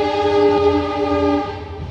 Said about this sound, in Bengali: ট্রেন যাচ্ছে, কি সুন্দর